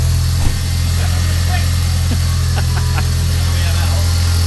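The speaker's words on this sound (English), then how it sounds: "It's idling." Steady idle of an Audi TT Mk1 engine close by, a constant low drone with faint mechanical ticks while a voice speaks briefly over it.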